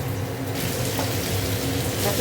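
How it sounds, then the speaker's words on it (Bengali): Bitter gourd fries in hot oil in a home kitchen, giving a loud, close, continuous crackling sizzle, much like rain, that holds steady with no talking. "দেখো উচ্ছেটা ভাজা হচ্ছে"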